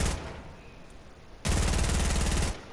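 Automatic gunfire in a build-fight shooter game: a faint early burst, then a loud, rapid, sustained volley of shots near the end.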